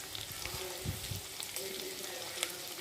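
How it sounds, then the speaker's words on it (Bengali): Chopped garlic, ginger and green chilli fry in a wok for chilli chicken, making a soft, faint sizzle with a few quiet stirring taps. "দু তিন সেকেন্ড মিনিট মতো আমি হালকা এটাকে আগে ফ্রাই করে নেব"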